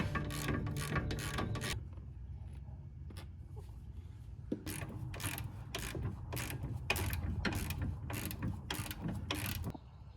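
A ratchet snugs control arm bolts on a Jeep Grand Cherokee during a lower control arm replacement, with bursts of rapid clicking, a short pause with a single click, then a longer run of steady ratcheting, close and clear.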